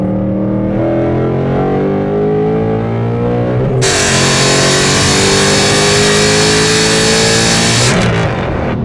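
A 2019 Ford Mustang GT V8 revs and rev-matches on downshifts while cornering, giving a loud, close engine note with rising and falling pitch and a sharp burst of raspy exhaust roar partway through.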